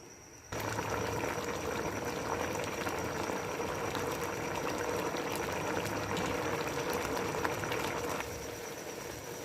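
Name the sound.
water boiling in pot with rice for matar pulao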